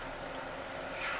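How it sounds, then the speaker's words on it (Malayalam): Water poured into a simmering pepper chicken gravy in a pan, giving a soft, steady pouring and bubbling wash that is faint and close, with no voices. "വീണ്ടും നമ്മൾ വെള്ളം ഒഴിക്കുന്നു"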